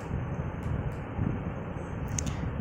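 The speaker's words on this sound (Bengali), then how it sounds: "আর ফ্যানও চলে," A small mini electric fan, toy-sized and fitted with a light, runs with a steady, close, low whirring hiss that stays even throughout.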